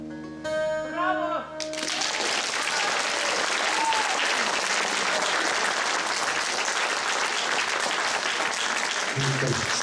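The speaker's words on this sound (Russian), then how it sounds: "аплодисменты ваши, конечно" Audience applause at a bard song concert: a sung or sustained voiced note fades, then a full hall breaks into loud, dense, steady clapping that carries on evenly, with a voice briefly audible over it.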